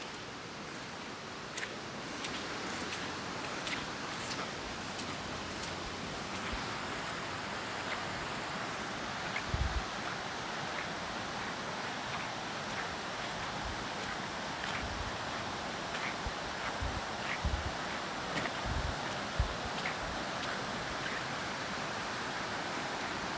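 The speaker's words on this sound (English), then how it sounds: "You got more water flowing here." Flooded creek flowing hard after rising water, a steady broadband rush heard close and fairly faint, with occasional small clicks and knocks over the continuous wash.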